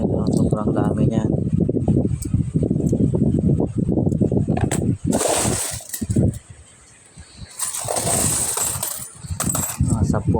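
Coins, including 10-peso pieces from a rare coin collection, are handled and dropped, giving bright metallic clinks and jingling bursts that come up mostly after a stretch of close talking.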